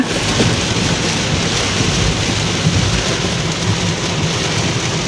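Heavy rain pours steadily and loudly on a flyover in Dhaka, a dense continuous hiss with low rumbling underneath, no voices.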